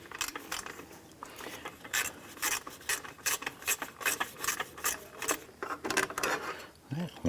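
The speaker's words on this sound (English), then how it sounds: "I'm going to go ahead and remove our 10mm bolt right underneath here." A ratchet wrench loosens a 10mm bolt on the radiator expansion tank bracket of an Acura TL, giving rapid repeated clicking strokes in close, rhythmic bursts with brief pauses between them.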